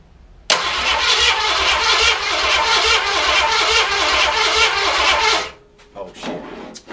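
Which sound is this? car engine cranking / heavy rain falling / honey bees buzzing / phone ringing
car engine cranking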